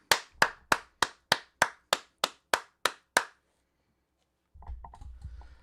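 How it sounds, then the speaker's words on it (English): About a dozen sharp, evenly spaced hand claps ring out close and alone, then stop; after a short silence a low, muffled voice begins. "We need a round of applause."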